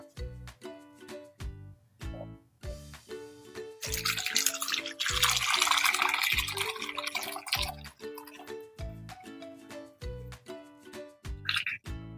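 Homemade kesong puti cheese mixture is poured through a strainer lined with clean cloth, a steady splashing stream rising midway and trickling off over rhythmic background music.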